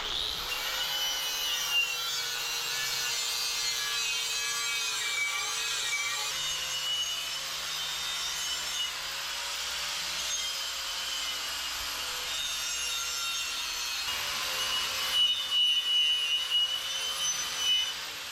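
An angle grinder with a wire wheel strips rust from the metal body of a hotrod mini truck, a continuous loud abrasive whine with gritty scraping, steady throughout with brief surges near the end.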